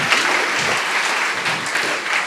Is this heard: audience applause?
yes